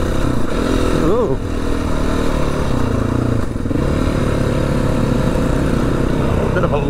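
A dirt motorcycle rides bush tracks through an Australian logging area, its engine droning loud and close with shifting revs, clattering over rough ground amid wind rush.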